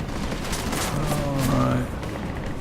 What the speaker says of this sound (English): switch back to our combat rifle. 29 rounds, so we better make them all count